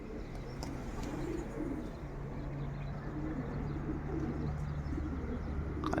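Soft, repeated pigeon cooing over a steady low background hum, with a few faint chirps, moderately distant.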